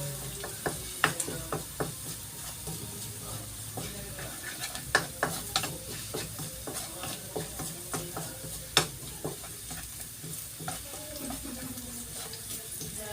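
Garlic frying in a pan while sardines are being cooked, with quiet sizzling under repeated sharp scrapes and clinks of a spatula stirring against the pan.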